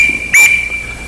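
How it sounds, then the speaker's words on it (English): A duck call whistle fitted with a stem sounds a bass note: a thin steady tone that jumps into a sudden loud, sharp blast for a moment before easing back, heard close and alone. "Bass note. I'm doing that on a whistle."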